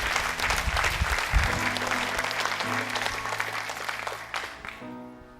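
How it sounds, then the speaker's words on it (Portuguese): A church congregation applauding, dense steady clapping that fills the space at a loud level, holding throughout and easing near the end as a sustained organ or keyboard chord comes through. "Aplaude a Deus aí."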